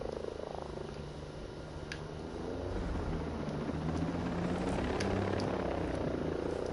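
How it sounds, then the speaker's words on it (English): A helicopter in the video game Ghost Recon Breakpoint gives a steady, low rotor rumble that holds throughout and grows slightly louder partway through, with no talking. "I get up and the chopper's right over here?"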